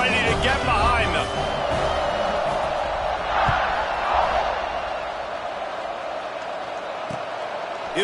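Football stadium crowd roaring at kickoff, a broad sustained wash of cheering throughout, with a commentator talking over it.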